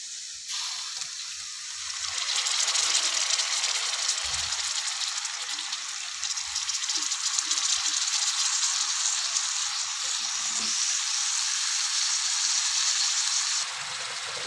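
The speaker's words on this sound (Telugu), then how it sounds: "ఇప్పుడు నేను కాలీఫ్లవర్ బఠానీ రెండు ఆయిల్లో వేసినాం కదా" Cauliflower and peas frying in oil for a curry, a steady, bright hiss of sizzling that runs nearly the whole time with faint clinks underneath, no talk.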